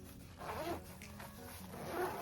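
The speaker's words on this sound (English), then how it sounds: "And it zips" A zipper closes a small, compact, waterproof travel cord organizer pouch, giving two short rasping pulls close by with a quiet pause between them.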